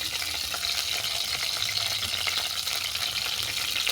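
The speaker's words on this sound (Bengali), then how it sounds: "তেল গরম হয়ে গেছে, ব্রোকলিটা তুলে দিলাম" Broccoli fries in hot oil with a steady, bright sizzle that runs unbroken at close range, with faint scraping stirs and no voices.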